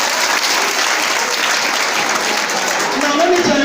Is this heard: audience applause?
yes